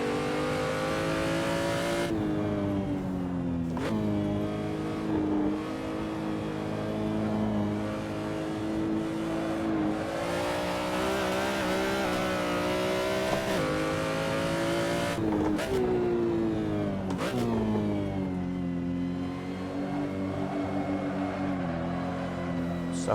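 A BMW M3 drift car from Aussie Drift Co in Assetto Corsa roars continuously with a harmonic-rich engine note, revving up and down through repeated throttle blips and gear changes across the run.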